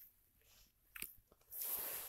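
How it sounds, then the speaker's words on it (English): Someone eating a cookie during a casual game talk, with a crisp bite and crunchy chewing that swells into a loud, close, sustained crunch near the end. "I'm eating a cookie"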